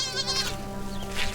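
Sheep and goats from a Bedouin flock near Petra and Wadi Rum bleat in short, wavering calls, two or three cries overlapping close by over faint outdoor noise.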